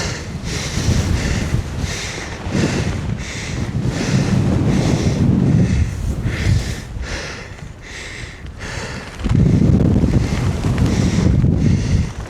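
Strong, gusting wind roars and buffets the microphone on an exposed mountain traverse, rising and falling in loud surges with no voices present.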